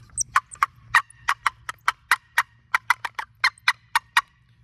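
Sharp, rhythmic clucks from a wooden turkey box call in need of chalk, about twenty evenly spaced yelps in quick succession, close and clear with no talking.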